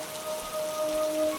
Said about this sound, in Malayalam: മഴ പെയ്തു.